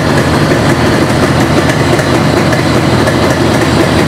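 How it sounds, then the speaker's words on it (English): A Yamaha RD 350 motorcycle with a head stud problem runs close by, its engine a loud, steady, rough drone held at raised revs for the whole stretch. "So if I just increase the RPM a bit,"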